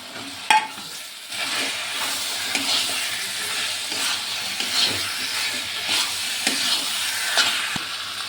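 Chicken mince frying in oil while it is stirred, a dense steady sizzle that holds throughout, with a sharp knock near the start and scraping strokes now and then, close and fairly loud.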